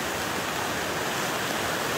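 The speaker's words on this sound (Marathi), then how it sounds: "पावसाने नदी पुरी भरली आहे." A swollen river roars in a dense, continuous rush of water, loud and unbroken, with no voices.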